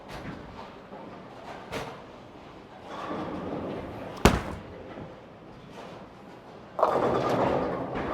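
A bowling ball rumbles down a league lane for a few seconds and then strikes the pins with a sharp, loud crack. A scattering clatter and a burst of rolling rumble follow, and no one speaks.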